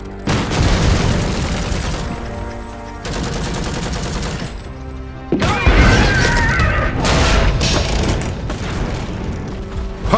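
Gunfire in the video game Iron Harvest: loud, dense bursts of rapid shots and mechanical clatter, continuous and overlapping, with short breaks and heavy booming impacts throughout.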